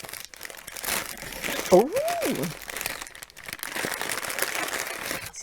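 A piece of white card is handled close by, producing crinkly rustling and scraping throughout, with someone speaking briefly over it partway through.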